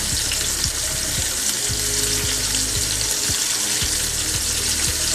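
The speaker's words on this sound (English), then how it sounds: "Make sure your oil is not too hot because you do want these to fry up." Buttermilk chicken frying in hot oil in a pot, a steady loud sizzle and crackle filling the whole stretch with scattered pops, no talking.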